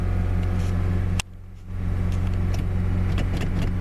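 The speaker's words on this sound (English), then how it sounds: "Now I'm going to raise the idle" A Honda CR-V engine held at a raised idle, a steady close droning hum with low rumble throughout, dipping briefly then settling back to the same even level.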